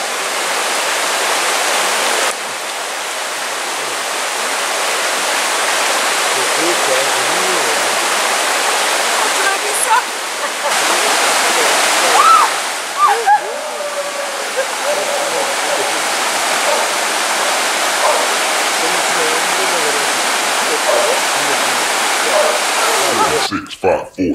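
A forest stream rushes steadily as a broad, continuous wash of water noise, fairly loud and close, with occasional faint voices and small knocks over it.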